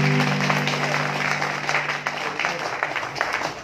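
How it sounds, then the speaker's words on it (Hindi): A crowd at a religious pilgrimage gathering on the Nishan Yatra from Kolkata to Khatu Dham breaks into scattered applause, fairly faint and distant, with a sustained musical drone fading early and murmuring voices underneath. "ताली बजाओ यार"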